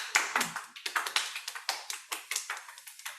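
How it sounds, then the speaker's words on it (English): Small group applauding at a meditation demo day: a brief, fairly quiet round of clapping with distinct individual claps in an uneven rhythm, fading slightly toward the end. "Round of applause."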